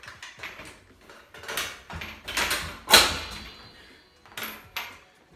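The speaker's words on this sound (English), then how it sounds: "you just pull that right up and the bike folds in the middle" A 16-inch folding bicycle is folded at its middle hinge, heard as a quiet series of clicks, rattles and metallic clanks with one sharper snap midway.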